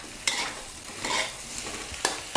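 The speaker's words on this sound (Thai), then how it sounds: "ก็จะใส่ในส่วนของเห็ดลงไปแบบนี้เลย ผัดเห็ดก่อนค่ะ" Eringi mushrooms stir-fried in oil in a pan over medium heat beside pushed-aside egg, a soft steady sizzle broken by a few scraping stirs of the spatula, close and quiet, with no talking.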